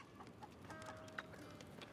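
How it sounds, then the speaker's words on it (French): Chickens in the video game Loot River cluck softly as they are petted, faint short calls over a low, steady game background. "Vas-y, on peut caresser les poules."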